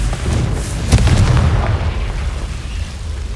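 The Confringo fire spell bursting in Hogwarts Legacy, a loud, deep, rumbling explosion with a sharp crack near the start that rolls on and slowly fades over a few seconds.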